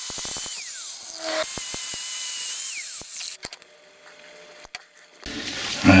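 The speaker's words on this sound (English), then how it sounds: "Just give it a quick tidy up around the edges there with the wire brush." A wire brush scrubs the edges of a MINI R50 driveshaft hub, a whirring, scratching tool sound with sharp clicks and brief pauses, close up with no talking.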